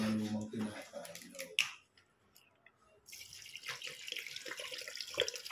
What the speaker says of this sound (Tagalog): Yung tubig naman mga kabayani.